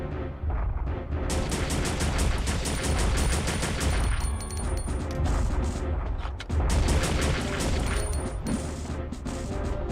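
Grenade rounds fired at a large monster in Resident Evil Survivor: loud, dense blasts and crashing booms over a continuous loud game soundtrack, with no voices.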